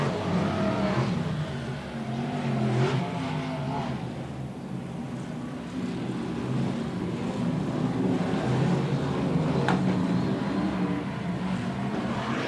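BriSCA Formula 1 stock cars race around the oval at Scunthorpe in 1992, their engines a continuous loud roar rising and falling as they pass. Crowd and track ambience sit underneath, with sharper bursts near the middle and end.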